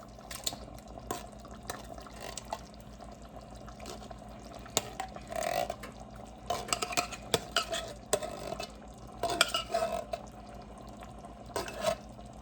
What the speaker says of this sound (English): we're gonna mix all that up. Scrape the bottom of your pan if you need to